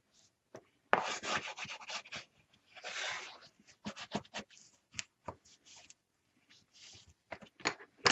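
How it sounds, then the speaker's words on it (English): Paper is burnished for a princess-themed 8x7 mini album, with close, quiet irregular rubbing and scraping strokes in quick bursts separated by brief silences. "make sure you're burnishing really good"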